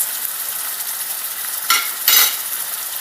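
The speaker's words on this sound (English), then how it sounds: "you just let it fry in here." Ingredients for Haitian mayi moulen frying in a pot, a continuous close hiss of hot oil with two brief louder bursts of sizzle as the contents are stirred.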